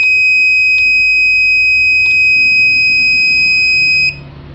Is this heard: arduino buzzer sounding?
yes